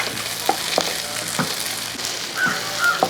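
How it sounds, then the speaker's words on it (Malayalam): Onions and green chillies sizzle in a pan, a steady frying hiss broken by a few sharp scrapes and clinks of a spoon stirring, close and fairly loud with no voices. "ആ പച്ചമുളകും കൂടെ ഇതിൻ്റെ അകത്തോട്ട് ഇട്ട് കൊടുക്കുകയാണ് എന്നിട്ട് ഒന്ന് ഇളക്കി കൊടുക്കുക"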